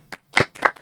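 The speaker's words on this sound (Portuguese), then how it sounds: "Bater umas palmas, né?" A few sparse, separate hand claps ring out close by in a small group at a Brazilian auction company gathering, three or four brief strikes with silence between them.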